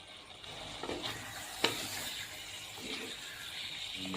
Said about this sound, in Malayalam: ഇടയ്ക്കിടയ്ക്ക് ഇളക്കി കൊടുത്തുകൊണ്ടേ ഇരിക്കാം.